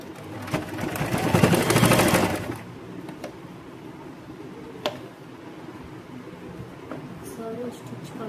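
A sewing machine runs in a fast burst of stitching for a couple of seconds while joining the shoulder seam of an A-line kurti, then falls quiet except for scattered ticks and handling noises, with a person talking throughout.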